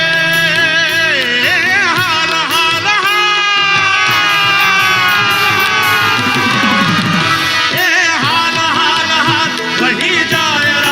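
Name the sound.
crowd applause and cheering at live event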